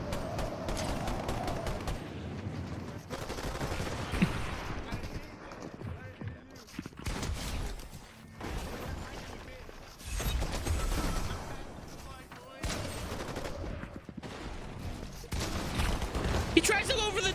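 Minigun fire rattles in bursts in a video game, alternating with short pauses, while a person talks over the shooting.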